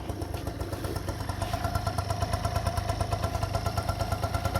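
An engine starts and settles into a quiet, steady idle, its low rhythmic chugging even and unbroken throughout.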